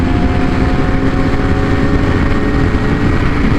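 A Kawasaki Ninja ZX-4RR inline-four motorcycle under way, its engine a loud, steady, even drone blended with rushing wind throughout.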